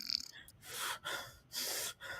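Close breaths blown straight into a microphone, three long loud rushing exhalations in a row with short gaps, alone with no talk.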